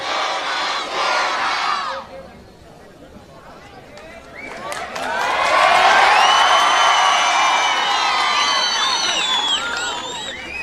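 A large crowd at an AIMIM public rally in Harsul, Aurangabad shouts slogans to welcome the speaker. A first burst of voices fades, then a louder, sustained roar of many voices swells and continues.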